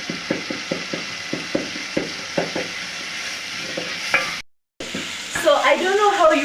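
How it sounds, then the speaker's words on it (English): Onions and tomato sizzling in a pan while a utensil stirs, with steady frying hiss and regular scraping strokes, a brief dropout, then louder sizzle as minced meat goes in; faint voices near the end. "after I've fried the onions and tomato, so I'm going to be adding the minced meat"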